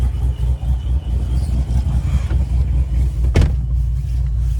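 A procharged 2016 Corvette Z51 engine warms up, idling with a steady, close, low rumble that stays even throughout, with one brief higher-pitched swell near the end.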